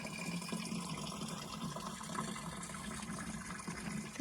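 Water pours from a hand-carried watering can into garden pots, a steady gushing and splashing stream heard close by and fairly quietly throughout.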